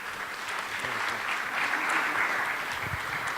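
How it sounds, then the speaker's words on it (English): Summit audience in a hall applauds the panelists with a steady, moderately distant round of clapping lasting a few seconds, with faint low murmurs underneath. "Can we have a huge round of applause for them, please?"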